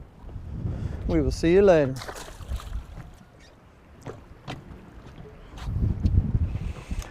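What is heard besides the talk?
strong wind blowing on a lake while bass fishing from a boat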